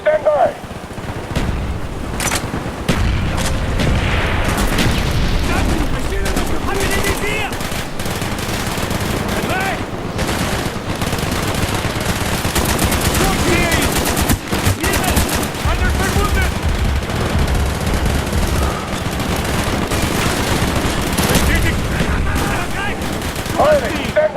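Sustained gunfire from Call of Duty: Black Ops on PC, automatic weapons and heavy shots firing almost without pause for the whole stretch, loud and dense, with shouted voices breaking through the barrage.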